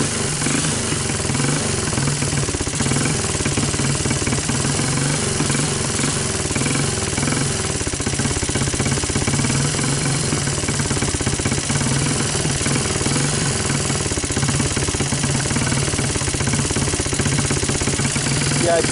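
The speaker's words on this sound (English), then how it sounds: "the carburetor is running on choke right now" Honda TRX200SX ATV engine running on choke, rich at idle with a suspected intake manifold leak: a loud, steady, close rattling drone with no pauses, continuous for the whole stretch.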